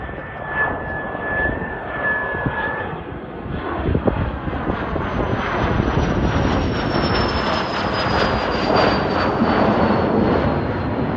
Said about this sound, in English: It's a Learjet taking off.